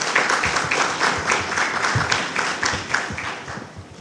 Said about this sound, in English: I would like to give a round of applause for that.